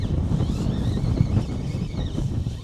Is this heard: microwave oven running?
no